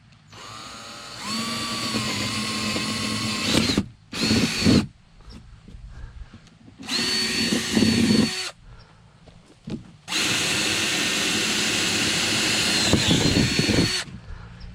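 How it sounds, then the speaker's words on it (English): A power drill whines through wood in several bursts, each a few seconds long, drilling starter holes for a jigsaw, with short quiet gaps between them, loud and close. "Just want to drill just to give the jigsaw a starter spot."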